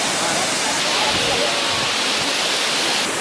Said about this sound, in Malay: Kita dekat air terjun Ephrata.